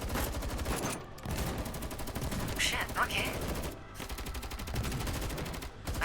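Rapid bursts of gunfire from the Girls Frontline 2 game, dense and loud throughout with brief pauses, a voice cutting in briefly over the shooting.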